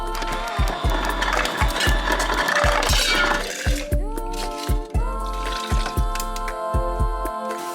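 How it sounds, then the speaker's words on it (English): Water pours into a Stanley cup with gurgling, dripping plinks over a steady background of music. "so let's fill up my water"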